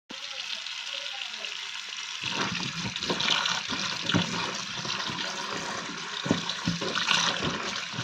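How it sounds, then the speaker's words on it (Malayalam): Tap water runs steadily and splashes as cauliflower is washed in a kitchen, starting with a faint trickle then becoming a fuller gush with occasional bumps and clatters. "അപ്പോൾ ഇത് കഴുകി എടുക്കുകയാണ്."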